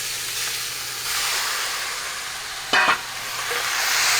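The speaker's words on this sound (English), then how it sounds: "Now we can put the beef shank that we sliced." Sliced beef shank sizzles in a pot with curry paste, garlic and shallot for a Khmer beef stew, making a steady close hiss with a low hum and one sharp clatter near the end.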